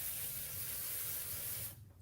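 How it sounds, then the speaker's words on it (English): Pixie Spray adhesive hisses from an aerosol can onto the back of cardboard, one steady, close spray for under two seconds that cuts off sharply, faint overall with no talk. "I'm going to apply some Pixie Spray on the back just so that it doesn't shift on me"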